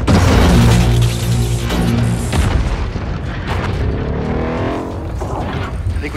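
A loud, booming plasma cannon blast in a Pacific Rim battle, with a heavy rumble and crash that slowly fades into a sustained roaring tail.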